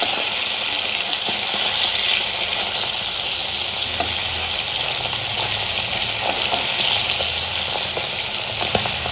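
Fish sizzles steadily in hot oil in a pan, a loud continuous frying hiss with occasional stirring clicks and no talk.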